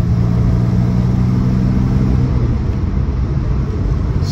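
A 1961 Jaguar MKII saloon with a 2.4 engine, manual gearbox and overdrive pulls away under steady, deep engine rumble that stays loud and even throughout, with no voices.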